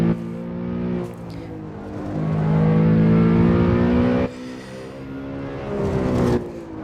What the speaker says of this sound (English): You can hear the engine, Rusty. You know what it is.